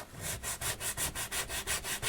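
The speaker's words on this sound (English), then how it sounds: "I'm now going to go over some of this with some sandpaper" Sandpaper rubs back and forth over the wooden braces of a guitar soundboard in steady, even strokes, about nine passes, close and fairly quiet with no talk.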